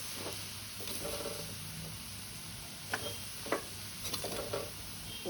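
Jackfruit stir-fry tossed in a pan for a Christmas thoran, a soft steady sizzle with scattered scraping and stirring knocks from the utensil, fairly quiet.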